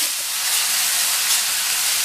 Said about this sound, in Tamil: 1 நிமிஷம் போல் இந்த துருவின நெல்லிக்காயை வதக்கி விட்டுக்கோங்க